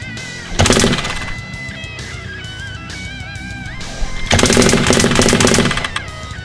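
A Nerf Stryfe blaster fires in two rapid bursts of mechanical rattling, loud and close, with a quieter stretch of whirring and squeaky tones between the volleys and no talking.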